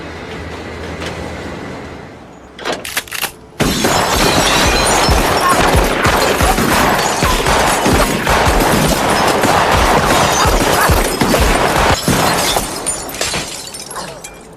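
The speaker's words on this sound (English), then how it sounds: "Emilio is suddenly riddled with bullets by a group of men" A sustained, loud burst of rapid gunfire from a group of men shooting a man in a crime drama scene, dense crackling shots going on for about ten seconds after a brief lead-in.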